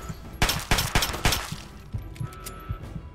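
Gunfire from the Fallout video game: a rapid burst of loud, close shots in quick succession, then a few scattered single shots trailing off, with no voices.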